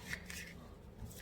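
Tarot cards being shuffled by hand give a few quick, soft riffling bursts, faint and close, with no talk.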